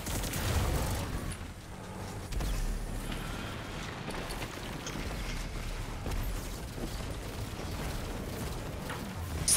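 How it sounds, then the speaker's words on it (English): Rapid, dense burst of grenade explosions in an online strategy war game, a continuous loud barrage of overlapping blasts and gunfire-like cracks lasting throughout without pause. "Is that a lot of grenades?"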